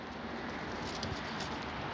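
A silver-tailed flight pigeon coos softly over a steady background hiss, low and faint.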